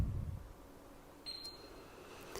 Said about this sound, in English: 1 beep means select